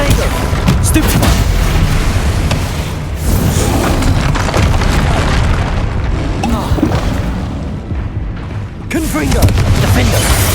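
Booming blasts of the Confringo fire spell in the Hogwarts Legacy video game, a dense, loud run of explosions and rumbling impacts with only brief lulls between them.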